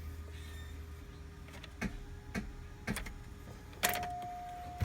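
'04 Cadillac Deville air ride suspension compressor whirring faintly in the background, a steady mechanical drone broken by several sharp clicks and a brief louder hum near the end; no talking.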